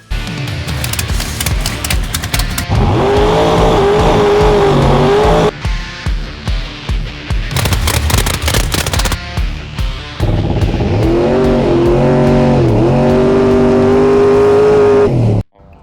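A 2500 HP Pontiac GTO race car with a new Procharger-boosted motor runs loud and close, with repeated revs rising and dropping between rough, choppy idle stretches.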